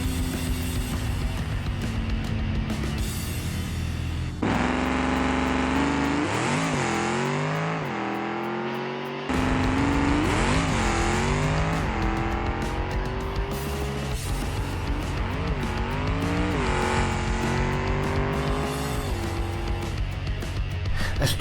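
A drag car in the BeamNG racing game makes repeated full-throttle launches, its engine revving hard and climbing through gear changes, loud and close across several runs with no talk.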